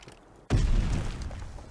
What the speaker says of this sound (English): Tupac ThuGLorD with that nade out.